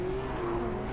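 A Porsche 911 991 GT3 RS race car engine in a racing video game drones steadily at high revs, a constant loud whine filling the moment without talk.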